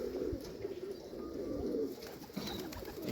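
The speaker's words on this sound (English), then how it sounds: "That's a racing pigeon, I think." Racing pigeon cooing steadily in a loft, a soft, continuous throaty coo rolling on for several seconds with no talking over it.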